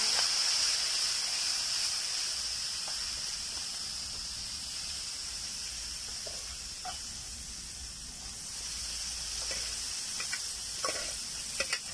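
Tera (colocasia-type wild leaves) dropped into hot oil with reddened fried garlic, giving a steady broadband sizzle with light stirring clicks, close and continuous without speech.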